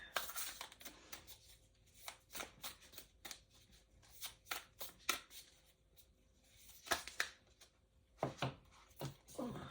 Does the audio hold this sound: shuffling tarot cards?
yes